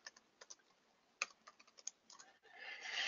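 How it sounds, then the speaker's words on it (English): A password being typed on a computer keyboard: a quick run of separate, close key clicks in an uneven rhythm, followed by a rising wash of broadband noise toward the end. "I need to type in a password here."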